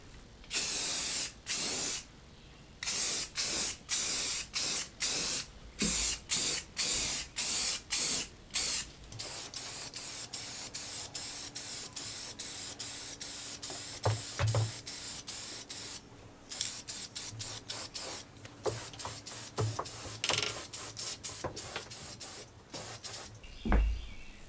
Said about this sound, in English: it's hard to get an even finish with a spray paint can